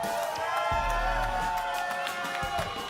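A Brazilian home crowd cheering at a Valorant esports grand final between LOUD and NRG, a loud, sustained roar of voices with a swell in the middle and a commentator's voice faintly mixed in.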